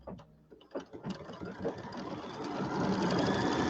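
Embroidery machine quilting a fabric block for a holiday house design, starting with uneven clatter that settles into a steady, dense, close mechanical whir.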